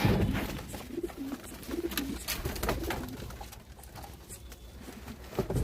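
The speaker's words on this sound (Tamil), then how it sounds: "இதான் நம்ம புறா கூண்டில் ஆக்சுவலி மொத்த புறாவும் இருக்கிற எண்ணிக்கை." Pigeons cooing inside a village pigeon coop, several birds giving soft low repeated coos close by, with light fluttering and shuffling around them.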